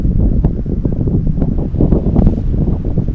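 Strong wind buffeting the microphone in continuous low rumbling gusts, loud and close, with no talking, out in open hunting country.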